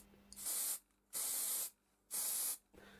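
Rattle can spraying satin black paint onto a flamethrower model kit, heard as three short, even bursts of close hiss separated by quiet gaps.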